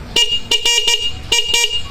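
A motorcycle horn under restoration honks in short bursts: two quick beeps, a pause, then two more, loud and close.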